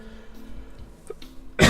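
A man at home doing cross-stitch, feeling unwell, gives a short burst of throat clearing or coughing at the very end after a quiet stretch of room noise.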